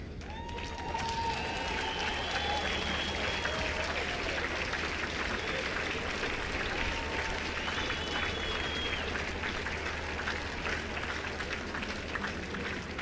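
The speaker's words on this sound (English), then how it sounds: "Crowds are getting super excited" A large crowd at a dressage event for five-year-old horses at a world breeding championship applauds in a dense, steady wash of clapping that lasts throughout, heard from a distance with occasional faint whistles above it.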